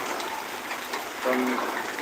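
Heavy rain pours steadily over a building rooftop, a dense continuous hiss with a brief splashing gush partway through, heard on its own.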